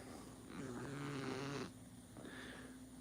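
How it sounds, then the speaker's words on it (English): A pet snoring nearby, a low rumbling breath that swells for about a second and then eases, with steady room hum beneath and no talk. "Oh, he stopped snoring."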